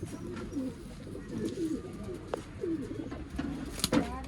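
An old line pigeon offered for sale in Bangalore, cooing in soft, low repeated calls roughly once a second, close by, with faint scuffs and clicks in between and no talking.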